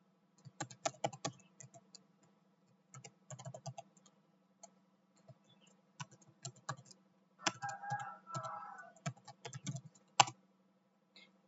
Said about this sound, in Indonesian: Kita bisa langsung mengetikkan file baru dengan nama phonebook